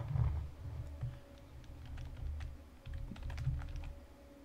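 Computer keyboard typing picked up by a microphone during a Space Engineers survival session: bursts of quick key clicks with pauses between, fairly close and moderate in level, over low background hum, with no talking.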